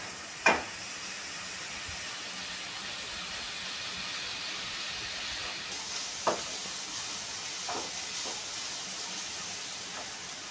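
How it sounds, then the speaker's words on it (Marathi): Onion, tomato and ground masala with turmeric fry in oil for a spicy Konkan-style chicken curry, giving a steady, soft sizzling hiss with a few sharp stirring clinks and scrapes, no voices. "तेलामध्ये कांदा आणि टमाटर चांगलं तळून घेतलंय मी"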